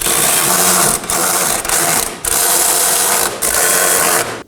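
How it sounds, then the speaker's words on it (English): Ratcheting wrench snugging down three 15mm mounting bolts on the rear shock absorber of a 2018-2024 Chevrolet Equinox, a steady close mechanical clicking with a few brief pauses between bolts. "Now to install my 3 15mm mounting bolts. I'm gonna snug these down for now."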